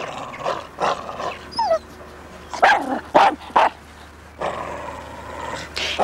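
A dog barks in a period comedy drama scene: several sharp, separate barks with pauses between them, fairly close, over a quiet room background.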